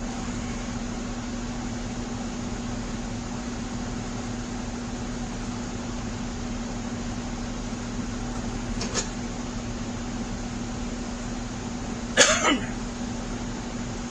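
A repaired Husqvarna YTH18542 lawn tractor runs with a steady, droning engine hum at an even level, broken by two brief knocks late on.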